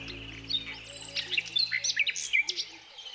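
Small birds chirp and tweet around a sunflower seed feeding station on a lawn, quick bright calls overlapping in a busy cluster, fairly close, over a faint low hum that fades out.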